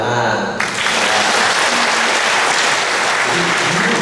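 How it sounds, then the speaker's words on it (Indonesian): Loud, dense applause from a church congregation at a Sunday Mass, a sustained wash of many clapping hands that starts abruptly and holds steady, with faint voices underneath. "Terima kasih Mas Hendra, tepuk tangan."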